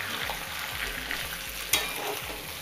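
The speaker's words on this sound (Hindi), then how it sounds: "चिकन को अच्छे से फ्राई कर लें" Chicken pieces fry in a pan with a steady, full sizzle, while regular scraping strokes of a spatula repeat every fraction of a second and one sharper clink stands out; close, moderately loud, no voices.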